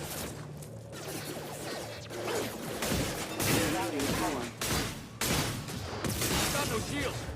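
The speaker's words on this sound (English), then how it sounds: "Ah, this crappy short-range shotgun." Heavy booming shotgun blasts in the video game Mass Effect 2, spaced roughly a second apart over a din of combat effects and music, with someone talking throughout.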